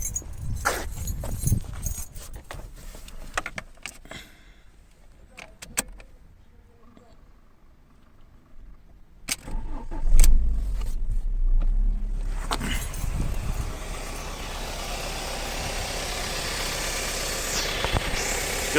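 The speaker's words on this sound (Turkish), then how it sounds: "Arabayı çalıştırıyoruz." A car is started during a battery and alternator check: keys jingle, then at about ten seconds the engine turns over and catches, settling into a steady idle that continues to the end.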